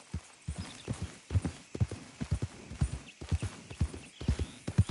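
Hooves clip-clop steadily in a video game, a quick rhythmic run of close, distinct hoofbeats with a brief whinny-like hint.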